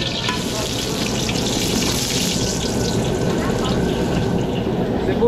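Garlic fries in a pan for a Filipino catering dish, giving a continuous close sizzle with light stirring and clinks of a utensil. Voices talk faintly underneath.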